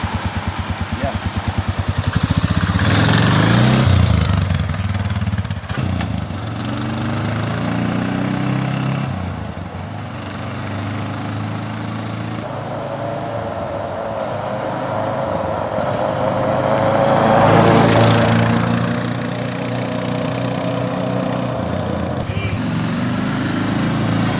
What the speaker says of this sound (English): It's a 400cc four-stroke single cylinder.